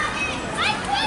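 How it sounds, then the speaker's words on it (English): Children play outdoors at a crowd gathering before a fireworks show, their high voices and shouts a continuous lively chatter nearby. "Kids playing over there."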